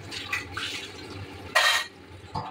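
Water pours into a pot of Bengali mutton curry on the stove in a short, bright splash of about a quarter second, standing out against the quieter background cooking noise.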